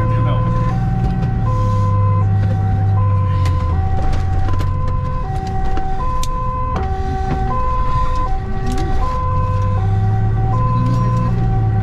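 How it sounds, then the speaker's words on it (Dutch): An ambulance siren wails in a steady two-tone pattern, loud and close, with engine rumble and voices at an accident scene attended by Dutch volunteer firefighters. "Ambulance is aanrijdend."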